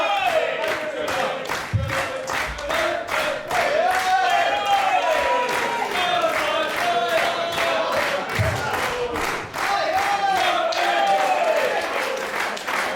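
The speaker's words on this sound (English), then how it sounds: "the crowd here in Sevenoaks serenading Shah Samuels to the ring" Wrestling crowd in Sevenoaks at a Hammerlock Wrestling event singing and chanting as a wrestler enters the ring, loud rhythmic clapping keeping time under massed voices throughout.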